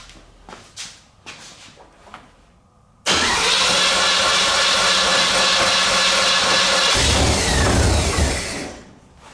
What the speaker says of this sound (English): We're gonna turn this ignition on and just, I'm gonna hit the bump start and see what happens.